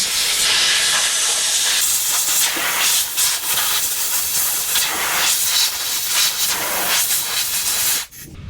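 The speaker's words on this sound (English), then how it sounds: "Now I'm just going to go ahead and blow a little compressed air through them." Compressed air blowgun hissing through freshly cleaned boat trailer wheel bearings, a loud, steady spray of air lasting several seconds with small surges, then cutting off abruptly near the end.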